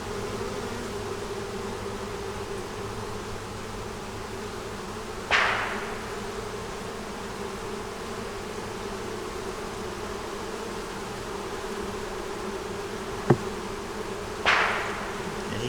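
Honey bees hum around a hive with top feeders, a steady close buzzing drone broken by a couple of short knocks and one sharp tap.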